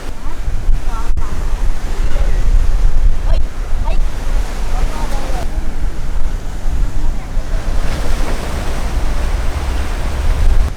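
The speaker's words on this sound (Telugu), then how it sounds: "ఆ నీళ్ళు వచ్చి ఈడిదాకా కొడుతున్నాయి" Waves breaking on a beach at Pondicherry at sunset, a steady loud roar of surf with wind buffeting the microphone throughout and faint voices in the background.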